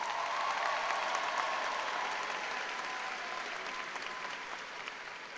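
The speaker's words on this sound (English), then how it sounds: "let's give them a round of applause" Steady audience applause at a high school commencement ceremony honoring graduates joining the U.S. Armed Forces, a broad, even wash of clapping from a large crowd that slowly fades.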